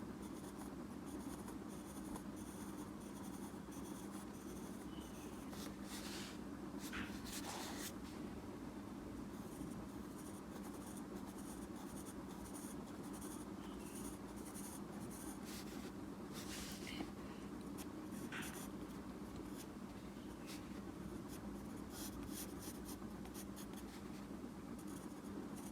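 Scratchy pen or pencil strokes on paper while a tooth diagram is drawn by hand, faint intermittent scraping bursts over a low steady background hum.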